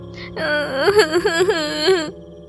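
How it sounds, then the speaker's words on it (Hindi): A voice wails and moans in a drawn-out, wavering cry, close and loud, lasting under two seconds. "बुढ़िया के रोने की आवाज सुनकर"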